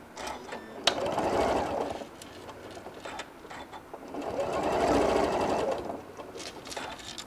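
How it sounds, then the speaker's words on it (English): A sewing machine runs top stitches along a hat seam in two bursts of rapid mechanical whirring, separated by a quieter pause with small clicks and handling noises, close and fairly soft. "I'm going to do 1/8 of an inch top stitch on each side of that seam"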